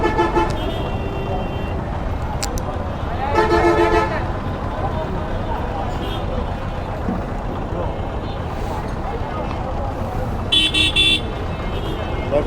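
Heavy city traffic idles in a jam, with a steady engine and road rumble broken by several short car horn toots, while a voice talks throughout.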